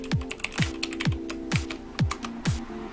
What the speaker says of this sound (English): So I'll type that now.